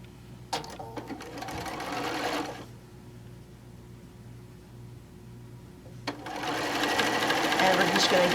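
A sewing machine stitches quilt pieces in two fast whirring runs, the second longer and louder, with a quiet pause between them. Someone talks softly under and between the runs.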